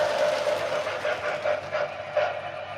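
A K-Line 0-4-0 model train locomotive running, a steady close whirring motor hum with faint rhythmic clatter that eases slightly toward the end, no talk.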